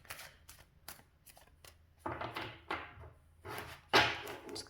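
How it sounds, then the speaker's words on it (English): Tarot cards shuffled by hand in repeated riffling, rustling bursts, close and fairly quiet, with a few louder flurries toward the end. "I'm just gonna shuffle like this."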